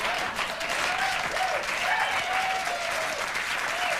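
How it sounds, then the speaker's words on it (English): A late-night television studio audience applauding, a dense, steady wash of clapping hands that holds at an even, loud level throughout. "People applauding a horrible"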